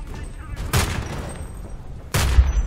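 Gunfire in the shooter video game Homefront: The Revolution: two sharp bursts of shots, one near the start and a heavier one toward the end, set against quieter background game noise.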